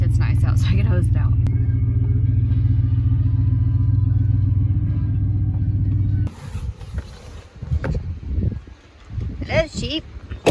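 A farm truck idles with a steady low rumble while a cow pen is being cleaned out on a nice day, then the engine cuts off and clattering, rustling handling noises follow with a voice briefly talking.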